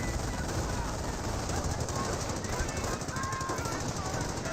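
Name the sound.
machine gun fire in Company of Heroes video game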